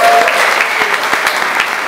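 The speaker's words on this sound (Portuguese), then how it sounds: "Gente, vamos aplaudir esses caras machos aí." Loud, dense audience applause at a live comedy show, a sustained wash of clapping with a voice briefly heard at the start.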